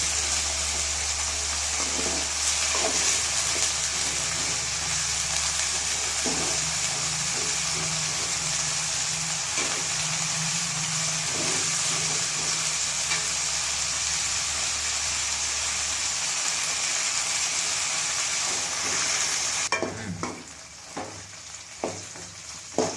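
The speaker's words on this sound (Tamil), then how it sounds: "இந்த அளவுக்கு நல்லா பொரியணுங்க" Ivy gourd (kovakkai) sizzling steadily in hot oil in a pan, with scraping stir strokes recurring throughout and a sudden quieter, clattering stretch near the end.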